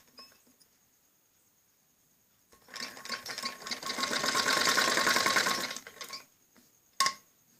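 A sewing machine stitches a kameez neck after a quiet pause, whirring in a rapid, building run for about three seconds before stopping, followed by a single sharp click.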